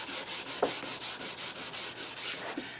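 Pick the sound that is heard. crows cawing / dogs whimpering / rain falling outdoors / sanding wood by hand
sanding wood by hand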